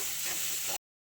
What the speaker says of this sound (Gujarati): તેલમાં આદુ મરચીનો વઘાર કરીને તેમાં કાંદા અને ટામેટાં નાખીને